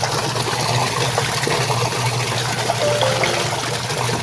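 A secondhand washing machine with a leaking drain valve runs with a steady wash of trickling, gushing water over a constant mechanical hum, close and unbroken, with no voices.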